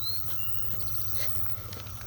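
Cicadas buzzing in a forest along the Appalachian Trail, a steady high drone filling the background with a constant low hum beneath, faint and continuous with no talk.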